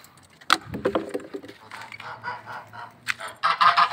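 Geese and chickens on a farm give a loud burst of honking and clucking, followed by scattered bird calls and another busy flurry near the end, with a low background hum.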